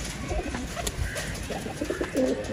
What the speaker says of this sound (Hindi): ये कबूतर है दोस्तों जो अभी छोड़ा है